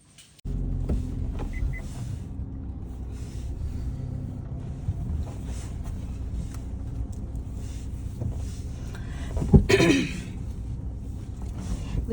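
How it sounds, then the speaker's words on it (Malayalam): A car reverses out from a house, its steady low engine rumble continuous and fairly close, with a brief louder mechanical burst near the end; no one speaks. "വീട്ടിൽ നിന്ന് വണ്ടി റിവേഴ്സ് എടുക്കണം കേട്ടോ"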